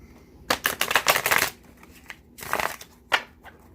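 Tarot cards are riffled twice in quick succession, a crisp fluttering burst followed by a shorter second shuffle and a light tap, close up with no talking.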